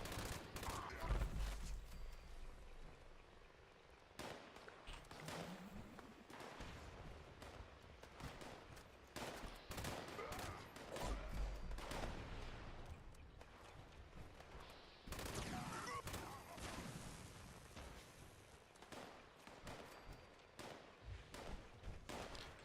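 Sustained gunfire from the video game Fallout 76: rapid bursts and repeated shots fill the stretch with dense crackling fire, fairly faint in the mix, with only occasional voices.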